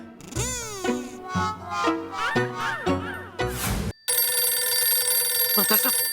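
A telephone rings loudly in a domestic sitcom scene, with a run of warbling chirped ring bursts followed by a steady buzzing ring tone that continues to the end.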